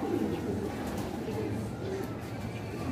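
Racing pigeons coo softly in a loft, low and faint against steady background noise, a few short murmuring calls across the moment.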